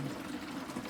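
Hot water runs steadily into a Pinter home-brewing keg during sanitizing, a continuous close rushing hiss with a low hum and no pauses or talk.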